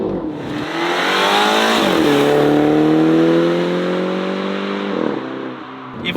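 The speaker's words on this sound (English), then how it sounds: "you hear this loud explosion of burbles as you switch up a gear" An automatic Mini Cooper accelerating hard through the gears, engine note climbing and dropping at each shift, with crackling exhaust burbles at the changes, loud and close inside the car, no talking.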